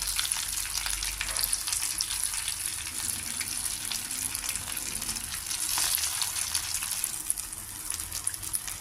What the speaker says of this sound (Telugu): అన్ని పక్కల వేగేలాగా మనం తిప్పుకుంటూ ఉండాలి కొద్దిగా లో ఫ్లేమ్లోనే మనం వేయించుకోవాలి